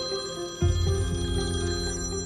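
A telephone in a blood-matching lab rings with a sudden bright electronic trill that starts abruptly and keeps sounding steadily to the end, nearby and clear with no voices.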